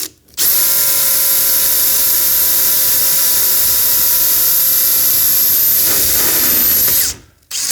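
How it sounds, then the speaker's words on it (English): Power drill boring a hole in a launcher rail, a loud steady high-pitched whine that starts abruptly, holds for about seven seconds, then winds down and stops. "I'm gonna try to drill as straight as I can"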